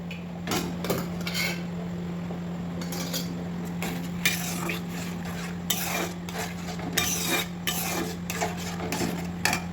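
Boiled peas and potatoes are stirred into fried masala, a spoon scraping and clinking against the pot in quick repeated strokes over a low steady hum, close and clear.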